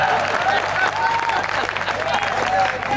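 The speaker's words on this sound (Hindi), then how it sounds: "ताली बजाओ, हाथ ऐसे ही रह जाएगा।" An audience at a Hindi kavi sammelan poetry gathering in Hastinapur claps in sustained, dense applause that fills the room.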